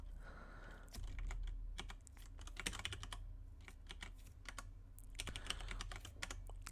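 Typing on a computer keyboard while writing code, a quiet, close run of irregular key clicks in bursts with short pauses, in a still room without speech.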